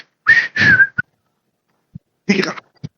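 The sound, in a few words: whistling imitating the father's whistle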